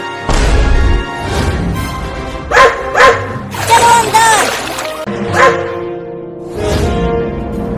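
Cartoon dogs bark in a few sharp, close bursts, mixed in with animated characters talking over a busy soundtrack.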